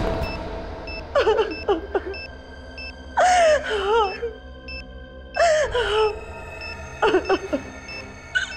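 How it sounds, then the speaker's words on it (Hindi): A person cries in a Hindi CID crime TV serial, with several bursts of wailing sobs and whimpers separated by pauses. Faint, steady electronic beeps run underneath. "रोने की आवाज?"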